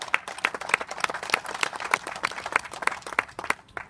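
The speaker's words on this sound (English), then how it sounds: "So let's give them a round of applause." A small crowd claps for veterans at a West Texas salute event, a rhythmic patter of distinct hand claps at a steady pace, moderately close. It fades slightly toward the end and no one speaks.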